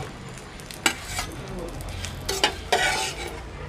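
Rui fish roe fritters frying in oil in a pan, a soft steady sizzle with a few sharp clinks and scrapes of a spatula stirring, close and fairly quiet.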